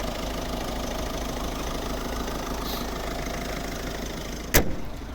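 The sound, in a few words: 1.6 diesel car engine idling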